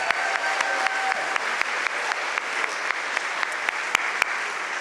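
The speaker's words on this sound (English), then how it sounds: "Let's give them a round of applause" A seated audience at a book talk breaks into sustained applause, a dense, even wash of clapping with a few sharper individual claps standing out, steady throughout.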